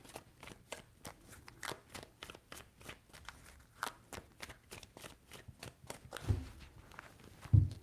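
Tarot cards are shuffled in a quick run of crisp riffling snaps close up, steady for several seconds, followed by a couple of soft thumps.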